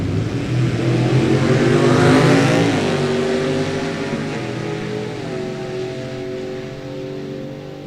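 A Chevelle wagon and a fastback Mustang launch at a drag strip, engines roaring loud and close at first, then pitch climbing through gear changes as the cars pull away and the noise gradually eases.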